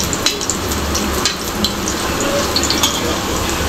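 A mushroom poli, a stuffed flatbread, fries on medium heat. It gives a loud, close, steady sizzle with scattered crackles and pops and no talking.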